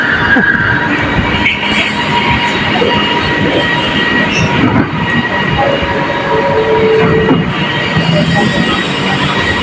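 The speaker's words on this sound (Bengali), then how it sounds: "দেখেন এখন কিন্তু আমরা মাটির নিচ দিয়ে যাচ্ছি ট্রেনে" An underground metro train in Malaysia running through a tunnel, a loud, continuous rumble and rattle of the carriages with squealing wheels, heard from inside the car.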